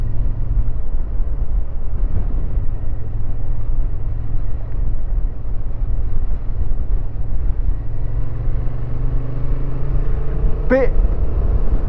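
Honda Transalp 750 motorcycle engine rumbling steadily while riding, a continuous low drone with wind noise throughout and a brief higher whine near the end.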